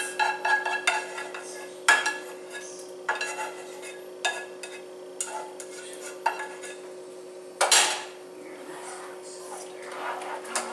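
A spoon stirs tomato sauce into cooked tortellini in a pan, with repeated metallic clinks and scrapes at an uneven pace over a faint background hum.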